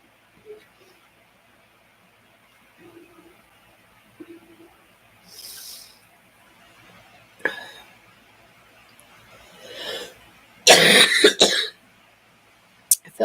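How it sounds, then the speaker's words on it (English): Coughing from a woman recovering from the flu, scattered bursts across the clip with a loud, clustered fit near the end, close and alone without speech. "I feel bad you guys listen to me cough"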